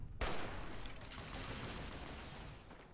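Gunfire in the video game Fallout: New California, a sharp shot followed by a sustained, dense rattle of fire that stays loud throughout without speech.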